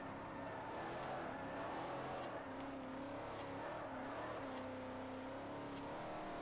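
Car engine from the Forza Horizon racing game droning steadily and closely, with rising and falling revs and a continuous whir over several seconds.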